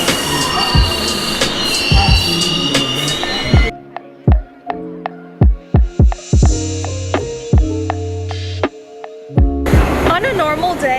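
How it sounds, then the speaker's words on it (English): A New York City subway train heard up close on a nearly empty car, with rattling wheels and a run of sharp rhythmic clatters and squeals through the middle, framed by busier broadband rumble at the start and end. "Currently heading to get on the train for the first time in 5 months."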